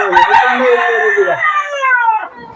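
A country rooster crows close by, one long loud cock-a-doodle-doo held for about two seconds, with a brief scuffle at the start, set among free-range native chickens on a small poultry farm.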